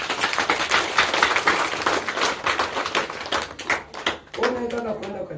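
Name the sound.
congregation clapping for Jesus in church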